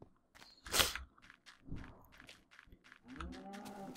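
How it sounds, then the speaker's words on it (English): Cows in the Minecraft video game give a few short, close moos amid crunching footsteps and hits, ending in a longer, drawn-out moo. "Stop mooing."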